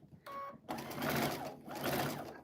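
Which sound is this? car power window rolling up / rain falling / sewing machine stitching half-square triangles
sewing machine stitching half-square triangles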